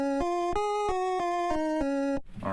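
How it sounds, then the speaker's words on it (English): Dry, unprocessed tones from a GSS 370 FM synthesizer plugin play a steady sequence of seven evenly spaced sustained notes, each bright and harmonically rich, before cutting off abruptly. "It's basically a simple FM synthesizer."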